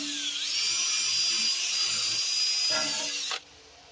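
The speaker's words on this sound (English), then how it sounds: "We're gonna start drilling that hole again so that we can get the hole opened up so we can re-tap it." Power drill with a 1/8 bit re-drilling a broken bolt hole in a Dodge Charger brake backing plate, a loud, steady high whine held for several seconds with a slight dip under load before stopping abruptly.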